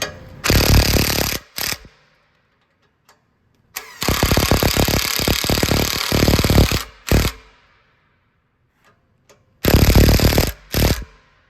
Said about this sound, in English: Now that they're threaded, a little impact action.